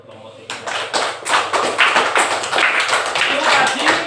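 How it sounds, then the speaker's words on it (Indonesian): Children clap in a classroom for a presenting group, a burst of loud, close, uneven handclaps starting abruptly and continuing steadily to the end, with some taps and thumps mixed in. "Tepuk tangan buat kelompok 3."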